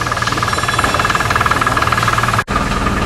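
A car engine runs steadily with the hood closed, a loud, even mechanical hum with a faint knocking pulse, broken by one brief dropout near the end.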